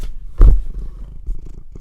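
A close, low rumbling cat purr with a loud thump near the start, then soft continuous purring fluttering underneath.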